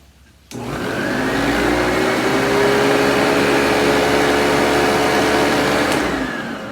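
A Vorwerk VK 121 upright vacuum with an ET340 powerhead starts after long disuse and runs with a steady, smooth motor whir and a brush roll on carpet, close and continuous for several seconds before winding down.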